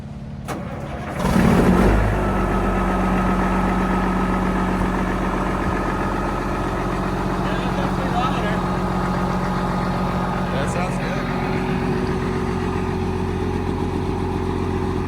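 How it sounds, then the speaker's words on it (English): Classic XL truck engine with straight pipes starts with a loud burst, then settles into a steady, rumbling idle close by that runs throughout. Voices speak now and then. "Just normal Detroit idle, I guess."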